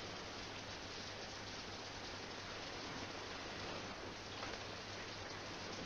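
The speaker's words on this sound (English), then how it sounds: "It's raining." Steady rain falling on an outdoor surface, a dense, even hiss of drops that holds at a constant level from start to finish with no voices.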